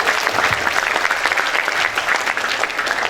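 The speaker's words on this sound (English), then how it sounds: "please give applause to Mr. Mark." An audience applauds a speaker named Mr. Mark at a university guest lecture on IKEA, with dense, sustained clapping throughout.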